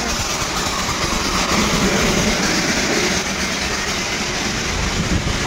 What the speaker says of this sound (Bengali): দার্জিলিং এর টয় ট্রেন।